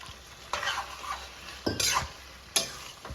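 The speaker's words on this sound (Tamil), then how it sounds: "பன்னீரை போட்டு கொஞ்ச நேரம் பன்னீர் வந்து வேகணும்" Paneer cubes frying in a pan for a pepper fry, with three bursts of spoon-against-pan stirring and scraping over a low, steady sizzle.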